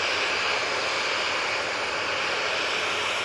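A TUI passenger jet at Manchester Airport roars steadily with a broad, loud engine rush and a hissing high edge, sustained and close, with no voices.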